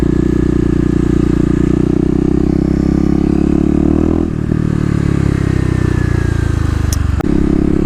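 A Kawasaki KLX250 dual-sport motorcycle with a noisy exhaust drones loudly and steadily up close while riding. The engine dips briefly partway through and then picks up again.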